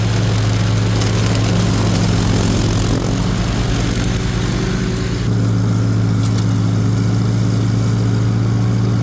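A lawn mower engine drones loud and continuous while mowing near a creek, with a steady low hum and a slight shift in tone partway through.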